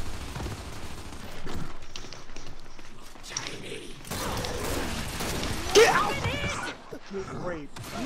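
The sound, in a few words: Boltok pistol gunfire in Gears of War video game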